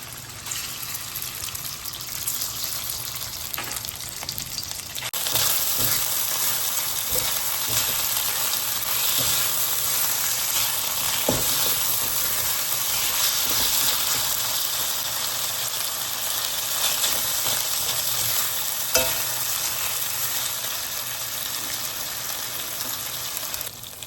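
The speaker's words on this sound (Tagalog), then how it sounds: "In a wok, put oil, and then we're going to cook our pork into." Pork hits hot oil in a wok and settles into a loud, dense, steady sizzle that runs on for over twenty seconds with occasional stirring clicks.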